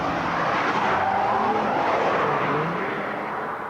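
An MG car's engine, heard from inside the cabin, roars steadily and loudly throughout with a broad rumble and some tire noise, easing slightly toward the end.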